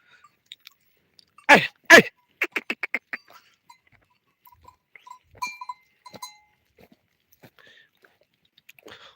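Black goats grazing outdoors in rural Turkey, with a burst of loud crunching and tearing bites followed by a run of rhythmic chewing clicks, then scattered quieter nibbles and faint rustles.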